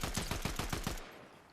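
Automatic weapon fire in Fortnite, a rapid burst of about eight loud, evenly spaced shots lasting roughly a second, then a short fading tail.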